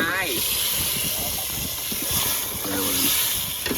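Vegetables dropped into hot simmering gravy set off a loud, steady hiss and sizzle that runs throughout, with a voice talking over it.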